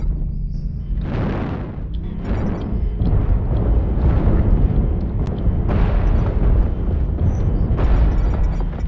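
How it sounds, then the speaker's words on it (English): Sustained barrage of artillery strike explosions in MechWarrior Online, heavy rumbling booms landing one after another at roughly one-second intervals, loud and continuous with no talk. "Artillery strike activated."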